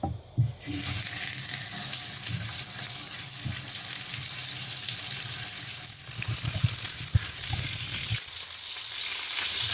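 Pork pieces fry in oil in a pan over high heat for a Kenyan-style fried pork, giving a steady, loud, close sizzle throughout with occasional spatters and light clinks, and no talking.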